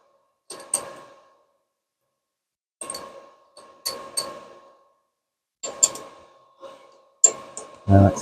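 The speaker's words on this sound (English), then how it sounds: "3mm drill, so I'm just going to peck at it, keep clearing the chips as we go." A 3.2 mm drill pecks into a deep hole in metal for piston rod glands in a model engineering workshop, giving several short grinding bursts separated by pauses, with a louder burst at the end.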